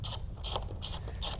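Small finger ratchet driving T25 screws holding the light bar on a Lamborghini Huracan, heard as four close, regular bursts of crisp clicking.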